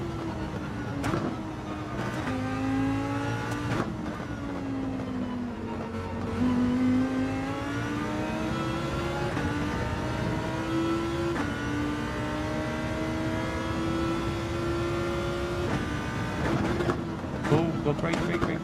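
A GR.3 race car in Gran Turismo 7 lobby racing revs steadily through its gears, its engine pitch climbing and dropping in repeated shifts over a long stretch, with a voice talking over it.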